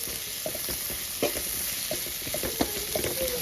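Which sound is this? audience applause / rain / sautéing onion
sautéing onion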